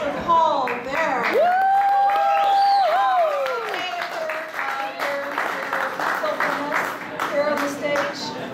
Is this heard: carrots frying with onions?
no